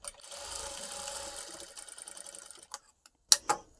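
A sewing machine stitches piping made from straight cloth cut from a saree, a steady close mechanical whirr of running stitches for a couple of seconds, then stopping, followed by a few short separate clicks and knocks.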